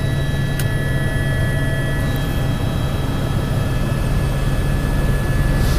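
A steady, loud helicopter drone fills the air continuously, a deep rumbling roar with no pauses, flying near Piz Corvatsch.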